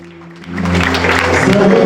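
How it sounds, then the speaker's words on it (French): A crowd of followers welcomes a pastor with applause and cheering, a swelling wash of claps and voices that rises after a quieter start and stays loud to the end. "S'ensuivent accolades, salutations, acclamations de ses nombreux fidèles venus pour l'occasion à sa rencontre."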